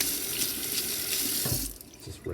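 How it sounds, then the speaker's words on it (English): Water from a tap rinsing stainless steel knife parts during a rust repair, a steady close rushing stream that changes tone as the parts are moved under it and briefly falls off toward the end. "Just rinse this off."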